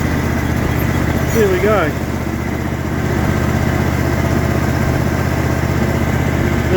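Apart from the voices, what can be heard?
ride-on mower engine driving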